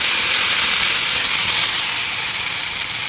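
Curry leaves and crushed garlic sizzle loudly in hot oil with popped mustard seeds, a steady, close, continuous hiss of frying for a homemade mango pickle, with no talk.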